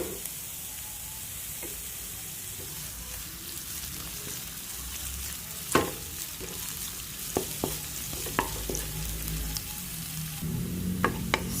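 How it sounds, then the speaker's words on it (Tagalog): Garlic and onion frying in a pan, a steady, close sizzle that runs throughout, broken by a few sharp clinks and scrapes of stirring. "Nag-transparent na ang bawang. Isunod ko na ang sibuyas."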